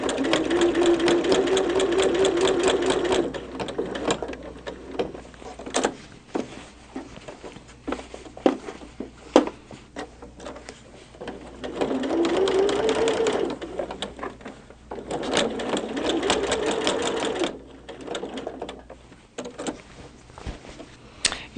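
Sewing machine quilting a Christmas tree quilt, running in steady rapid bursts of stitching separated by short pauses, close and fairly loud with no talk.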